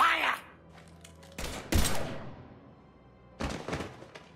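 Gunfire in the video game Mass Effect 3 comes in a few separate bursts of loud, close shots, each dying away before the next, with game sounds in between.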